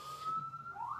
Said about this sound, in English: Let's just let that ambulance go by.